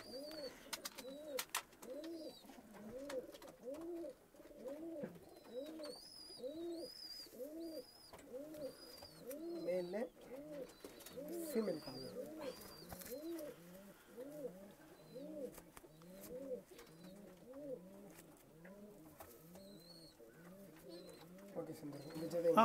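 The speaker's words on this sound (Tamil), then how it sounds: "இந்த புறாவும் பறந்துட்டு, இதோட சிக்ஸும் பறந்துட்டுருக்கு நம்மக்கிட்ட." Pigeons coo near at hand in a steady run of rolling, repeated calls, with faint chirps higher up and occasional wing flutters and knocks.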